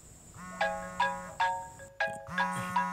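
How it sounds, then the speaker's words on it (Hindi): A mobile phone ringtone plays in a home, a melodic tone with a repeating chime pattern struck about every 0.4 seconds, close and clear, with no talk over it. "वंदना, तुम्हारे फोन पर रजनी का फोन आ रहा है।"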